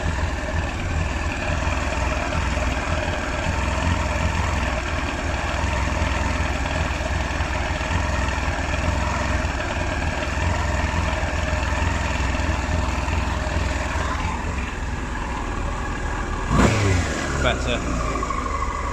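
A Yamaha R1 5JJ motorcycle engine idles slightly low, running as a steady loud drone throughout, with a short rise in revs near the end.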